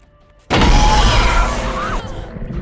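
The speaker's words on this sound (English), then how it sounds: "With a terrible bang, the base explodes and the lift plummets" Explosion of a mining base deep in the Mariana Trench, a sudden loud bang after a near-silent moment, breaking into a heavy, rumbling roar with debris-like crackle that slowly eases off.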